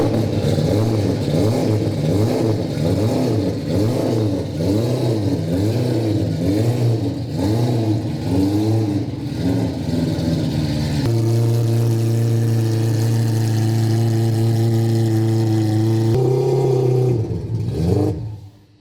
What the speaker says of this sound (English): So with the rear drive shaft installed, so I'm gonna fire it up